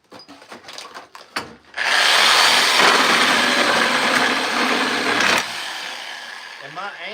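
A power tool cuts wooden pallets for a water boiler, a loud sustained buzzing run of several seconds after brief clattering handling sounds, then a lower trailing whine; nearby sounds and possible voice are brief.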